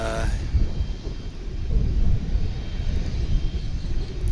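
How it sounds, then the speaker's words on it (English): A UPS Boeing 767 cargo jet arriving from Austin at Dallas Fort Worth International Airport, its steady engine roar and low rumble filling the air, loud and continuous with no talk. "We've got another UPS flight coming in from Austin. This will be a 767."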